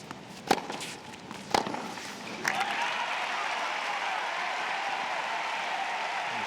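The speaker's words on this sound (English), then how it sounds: "Start to hear some of the applause in support of the other guy on the court, Andre Agassi" Crowd at the 2005 US Open tennis quarterfinal in a late-night stadium match. A couple of sharp ball strikes are followed by swelling, sustained applause that continues loud and steady.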